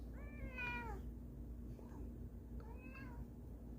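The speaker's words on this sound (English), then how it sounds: "I think my cat wants to get in the video." Two drawn-out meows from a pet cat in a home game room, the first longer and stronger, the second shorter, close by against a low background hum and no speech.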